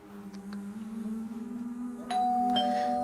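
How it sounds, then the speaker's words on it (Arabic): A doorbell rings indoors as a clear electronic ding-dong, with one tone near the start followed by a brighter, louder chime that lingers over a faint steady hum. "جرس بيرن، يمكن تكون هي."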